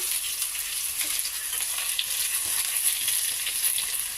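Okra and potatoes fry with chilli powder, turmeric and salt in a pan, giving a steady close-up sizzle with light crackles and occasional stirring, no talk.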